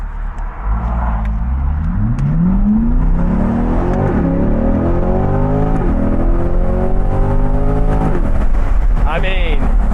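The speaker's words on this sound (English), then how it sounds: "let's go ahead and give her another rip. Let's go out of first gear this time." A C8 Corvette fitted with a C7 ZR1 LT5 throttle body pulls hard from first gear, its engine climbing loudly through rising revs with sharp shifts between gears and a brief voice near the end.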